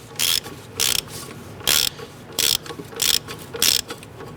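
Ratchet clicking in short bursts while a single nut is snugged down on a front strut mount bracket of a 1994-2004 Ford Mustang, five or six close, crisp rattling strokes separated by brief pauses.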